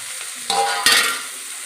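Crabs fry with onions in a hot pan as they are stirred, a steady sizzle broken by two sharp bursts of scraping and spattering where the spoon turns the pieces; no talk.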